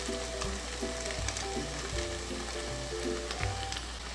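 Filling sautés hard in a pan over high heat while a torte filling is prepared, a steady dense sizzle with a few stirring scrapes, close and continuous throughout.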